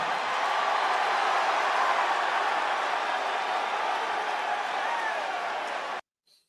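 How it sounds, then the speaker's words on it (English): A crowd at a live speech by The Rock gives a dense, steady wall of cheering and applause for about six seconds, then cuts off abruptly. "They all cheer."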